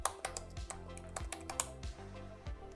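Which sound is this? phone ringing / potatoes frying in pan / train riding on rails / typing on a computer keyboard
typing on a computer keyboard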